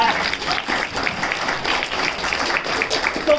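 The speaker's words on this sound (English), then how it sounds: "Can I get a huge round of applause for Dr. Eggman here?" A convention panel audience applauding at an anime event, a dense, continuous wash of clapping from a crowd with some voices mixed in.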